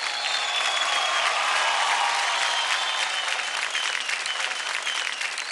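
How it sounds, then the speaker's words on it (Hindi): Sustained, dense applause from a studio audience cheering a dancing pair on a televised Indian dance competition, loud and steady throughout with no speech over it. "जोरदार तालियां हो जाए अभिक और राजस्मिता के लिए"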